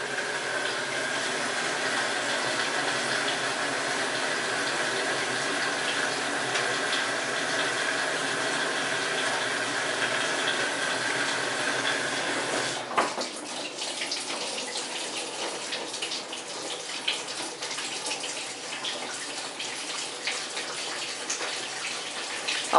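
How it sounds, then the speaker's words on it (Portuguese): Water rushes steadily into an Enxuta automatic dishwasher as it fills, a constant close hiss and splash that abruptly drops to a quieter trickle partway through. "dá pra gente ver a máquina enchendo"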